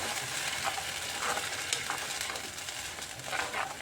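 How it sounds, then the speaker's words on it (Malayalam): Ground masala paste with small shallots cooks in oil, producing a dense, steady sizzle with occasional soft stirring scrapes, close and even in level, with no voices. "ഇനി നമുക്ക് ഇത് എണ്ണ തെളിയണ വരെ നന്നായി വഴച്ചെടുക്കാം"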